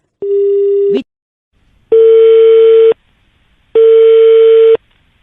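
A telephone disconnect tone heard right after a prank radio call is hung up: one short steady beep cut off abruptly, then two longer, evenly spaced, loud beeps with silence between them, and no voices.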